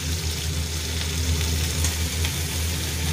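Onion sizzling in hot oil with ginger-garlic paste in a pan for Khandeshi-style soybean chilli, a steady loud crackling fry throughout with no talk.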